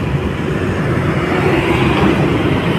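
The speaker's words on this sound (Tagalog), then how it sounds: "Yung LRT mga bayan ay panay-panay ang daan ng LRT dito." LRT light rail train rolling past in the Lawton area of Manila, a loud, steady rumbling roar of wheels on track that stays close and constant throughout.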